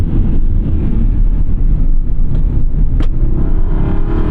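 A naturally aspirated V8 in a 2011 BMW M3 E90 or 2009 Aston Martin V8 Vantage sports car, heard from inside the cabin as a loud, deep, continuous engine drone with a faint lift in revs partway through.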